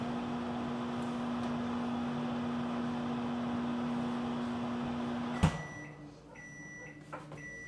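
A microwave oven hums steadily for several seconds while cooking shrimp chow mein, then stops abruptly with a clunk, followed by quiet room noise and a couple of small knocks.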